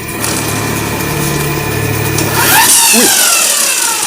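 A lithium-battery grass cutter with a 10Ah pack hums close by, then its electric motor revs up sharply midway into a louder, rising whine.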